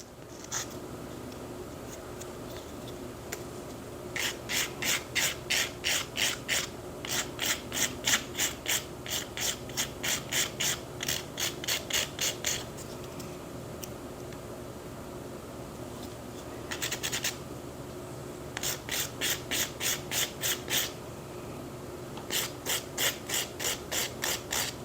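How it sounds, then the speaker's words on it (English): Hard gel nails being filed by hand, heard as bursts of quick rhythmic rasping strokes grouped in runs with short pauses between them, steady and close, with no talking. "Finish filing doesn't usually take that long."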